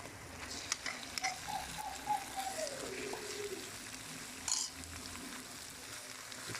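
Minced meat (keema) browning in a pan with onion-tomato masala, a soft steady sizzle with occasional scrapes and stirring, moderately quiet and close, with no talking.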